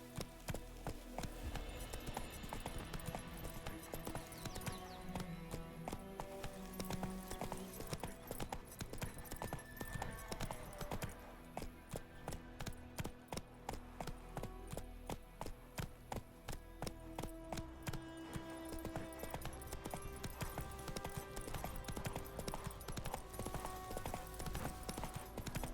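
A ridden horse's hooves clip-clop in a steady trotting rhythm, close and clear throughout, set against a low background with a faint fantasy-drama setting.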